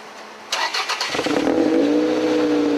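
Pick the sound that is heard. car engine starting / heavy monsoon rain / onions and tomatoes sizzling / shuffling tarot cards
car engine starting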